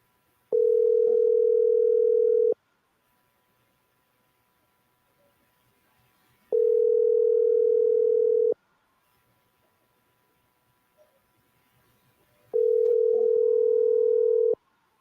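A telephone ringback tone while calling activists: three steady two-second beeps, evenly spaced about four seconds apart, clear and alone with near silence between.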